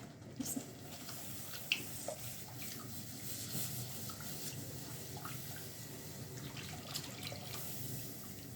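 Milk poured gradually into a pan while making béchamel for honey pumpkin, a soft steady liquid trickle with a few faint clinks, continuous and fairly quiet with no talking.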